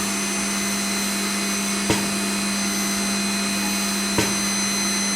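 Chiron FZ08KS MAG machining center with its spindle running steadily at 12,000 RPM, a sustained high-pitched whine with a constant hum beneath and two brief clicks or knocks along the way, with no voices.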